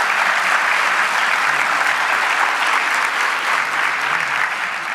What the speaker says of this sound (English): Please give them a round of applause and thank them for their hard